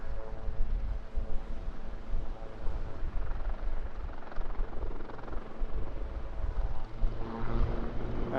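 A Wildcat helicopter hovers at an airshow, a loud, continuous rotor and turbine drone with a steady pulsing throb, close and sustained throughout.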